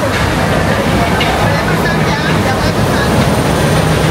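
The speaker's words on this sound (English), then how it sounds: "There's the monorail." The Walt Disney World monorail at Epcot passes through the theme park, a loud, continuous rumbling rush of rail noise amid busy outdoor crowd ambience.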